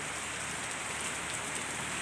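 Heavy rain pours steadily in a storm with wind, a dense, even hiss of drops striking surfaces close by, with no voices and no breaks.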